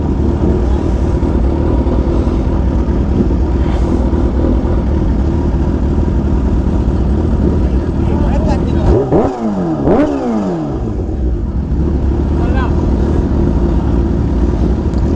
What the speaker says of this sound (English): I'm not supposed to be revving here